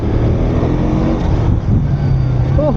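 A 2025 KTM RC 200 sport motorcycle engine hums steadily while riding, fairly loud and close, with a brief dip in revs near the end.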